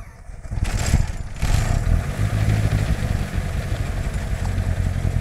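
A light aircraft engine starts before departure, a short burst of cranking settling into a steady, loud, low rumble of running that fills the rest of the clip.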